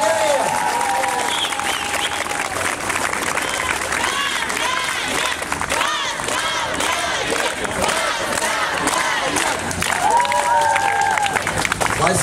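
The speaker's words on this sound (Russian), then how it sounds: "давайте еще раз более бурно поаплодируем" Loud, sustained audience applause at a military-patriotic club event honoring a birthday, mixed with shouts and cheering from the crowd, filling the room without pause.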